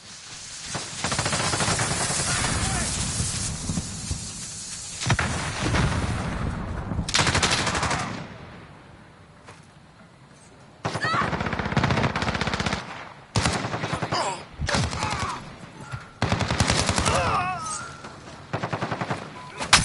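Gunfire in the Call of Duty Warzone video game, loud rapid bursts of machine-gun fire in several long volleys with short pauses, mixed with shouted voices.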